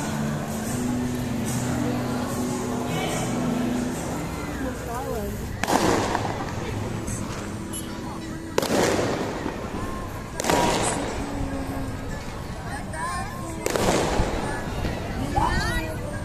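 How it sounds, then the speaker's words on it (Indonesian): New Year fireworks in Jakarta crack and boom at a distance over a busy, noisy street crowd, with about five separate sharp bursts spread across the scene and a steady murmur of voices underneath. "Semakin malam, suasana udah mulai rame aja dan kembang api juga udah mulai satu persatu muncul."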